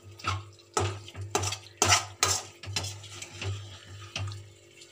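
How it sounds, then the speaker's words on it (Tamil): A spoon stirs green chicken gravy in a metal pot, producing repeated clinking scrapes and wet sloshing in an irregular rhythm over a steady low hum, close up with no talk. "ஒரு தடவை நம்ம கிண்டி விட்டுக்கலாம் எல்லாத்தையும்."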